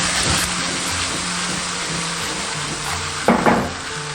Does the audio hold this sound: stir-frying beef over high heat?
yes